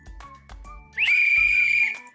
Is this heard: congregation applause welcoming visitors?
no